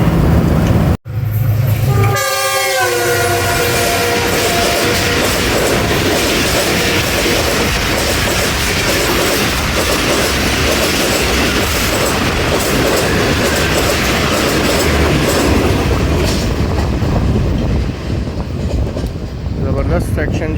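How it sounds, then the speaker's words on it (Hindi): The Bahauddin Zakariya Express passes at speed with its GU20 locomotive, a loud sustained rush and rumble heard from close by. A horn blast with rising tones sounds near the start over continuous rail noise. "ये थी 25 अब बहाउद्दीन ज़िक्रिया एक्सप्रेस, जो सिठारजा से गोली की तरह गुजर गई GU20 के साथ"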